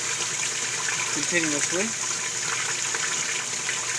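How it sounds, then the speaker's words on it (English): Water drains steadily through the open drain of a Cetus sieve, a continuous gushing rush with a person briefly talking over it. "we're going to pull the plug, leave the drain open. So now we're basically draining"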